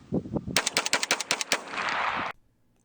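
A Pardus SL shotgun is fired as fast as possible, giving a quick string of about ten sharp, loud shots in rapid rhythm that end in a brief rumbling echo and then silence.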